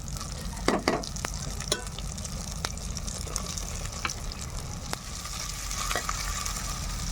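Ginger garlic paste and masala-cooked tomato pieces dropped into well-fried onions for a fish biryani, a steady close sizzle with a few sharp clatters as they go in and are stirred.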